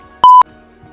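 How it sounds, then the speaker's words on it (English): A single loud, pure electronic beep lasting about a fifth of a second, sharp and steady in pitch against near silence. "Really loud beep. You need loud beeping."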